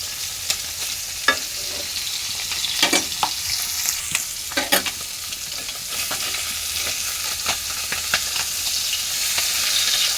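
Fish sizzles steadily in hot oil, with irregular sharp crackles and spatters popping up over a constant frying hiss.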